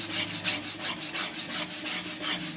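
A plane iron is sharpened by hand on a coarse stone, making close, rhythmic scraping strokes, about four per second, each a gritty rasp in an even back-and-forth pattern.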